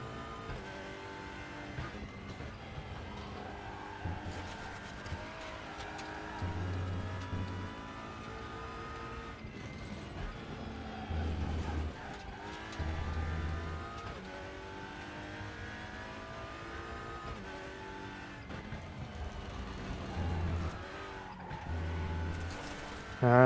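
Race car engine in the RaceRoom sim racing game, a TCR touring car revving hard and accelerating through a corner and onward, with steady high engine drone, throttle surges and brief tire scrub, loud and continuous.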